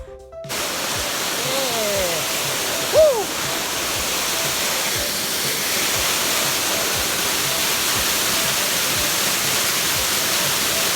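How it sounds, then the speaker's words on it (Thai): Kroh Ma Tai waterfall in Thailand sends up a steady, full rushing roar of falling water that runs unbroken throughout, with a faint voice or chirp rising briefly near the start. "พอถึงน้ำตกก็นี่เลยครับ"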